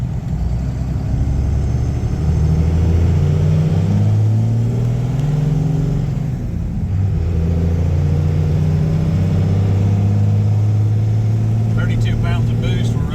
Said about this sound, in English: She's got some heat in the engine now, so we can rip around on her.